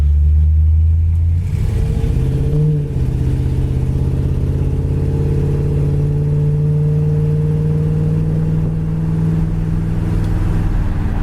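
A 1964 Chevrolet Impala driving with tight steering and suspension, its engine humming steadily from inside the car after a brief throttle change near the start, a smooth, even drone throughout.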